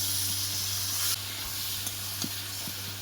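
Drained taro leaves added to a pan with fried prawns, giving a steady close frying sizzle and hiss with a few small stirring clicks, no talk.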